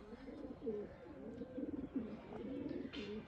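Sialkoti pigeons, a purebred fancy breed kept by a breeder at home, coo softly in a steady run of low repeated calls close by, with faint background noise.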